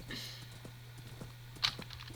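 Horse hooves in the Minecraft survival game clip-clop in a quick, evenly spaced run of light taps over a faint steady hum, with one sharper click near the end.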